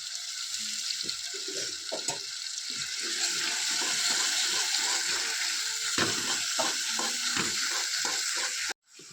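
Garlic and onion, salted, fry in oil as the base for a tomato fish curry, giving a loud, continuous close sizzle with scattered clicks of stirring that cuts off abruptly at the end.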